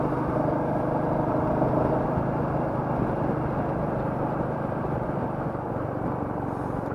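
A Royal Enfield Meteor motorcycle hums along at an easy, gentle pace, its engine a steady low rumble with wind noise, constant and unbroken throughout.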